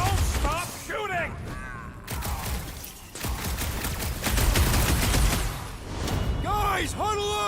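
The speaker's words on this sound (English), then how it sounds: "Just don't stop shooting!" Rapid gunfire fills a firefight in the video game Marvel's Guardians of the Galaxy, with bursts of shots and thuds running throughout while several voices shout over the battle.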